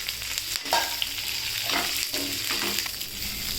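Chillies, tamarind and coconut roast in a pan for chutney, giving a steady sizzle throughout and several soft scrapes of stirring at irregular intervals.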